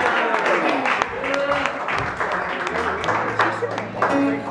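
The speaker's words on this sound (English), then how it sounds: "Give a round of applause for those dudes" A crowd at a live music venue claps and cheers between songs, scattered applause mixed with voices and chatter close by.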